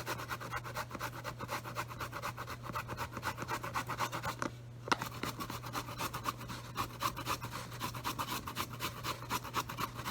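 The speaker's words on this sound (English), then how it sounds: "Go ahead and grate the ginger root." Fresh ginger root rubbed against a grater in a steady rapid rasping rhythm, close and continuous, with a brief pause midway.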